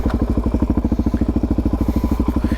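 A motorcycle engine revving hard close by during a clutchless gear shift on a wheelie practice spot, a loud, fast, even pulsing drone with a brief dip as the gear changes, no talking.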